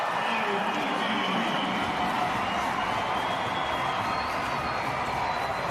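A stadium crowd at a rugby sevens match between Argentina and Fiji in Vancouver sends up a broad, steady roar of cheering, dense and continuous from start to finish.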